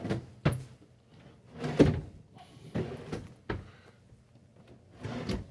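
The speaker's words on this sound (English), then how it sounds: "not only does it make it a nice drawer to open and close and quiet" Soft-close dresser drawers in an RV sliding open and shut several times, a run of soft wooden thumps and brief sliding rumbles spread unevenly and heard close, with no talk.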